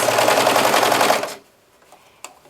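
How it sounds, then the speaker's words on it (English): A serger stitches fabric for a scrunchie in a fast, loud, steady whir that runs for over a second, then stops abruptly, leaving near silence with a faint click. "My serger is quick, so watch this."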